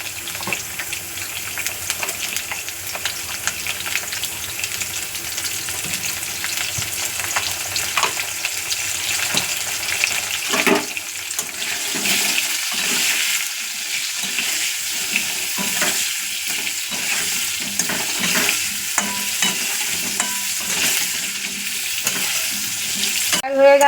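Potato pieces seasoned with salt and turmeric fry in hot oil, a steady bright sizzle broken by occasional stirring scrapes and clinks, close and continuous, with no talking.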